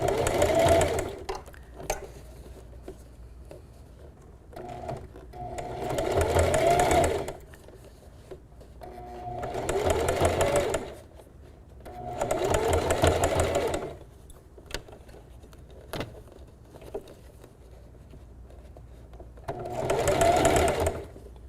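A sewing machine stitches coils of scrap fabric braid into a basket, running in several bursts of a few seconds each with quiet pauses between, close and moderately loud.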